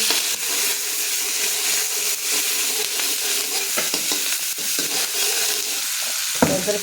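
Chillies and onion fry and sizzle in cumin in a pan, with a steady hiss broken by stirring scrapes and clinks throughout, close and fairly loud, no voices.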